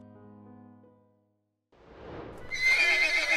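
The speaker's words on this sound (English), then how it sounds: "it continued to neigh, anxious and scared" A horse, anxious and scared while its leg is held, gives a whinny that rises out of a quiet pause and gets louder toward the end, following a soft tonal passage at the start.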